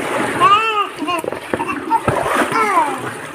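Water from a running tap splashes steadily as feet are washed, close and continuous beneath voices talking, including a child's.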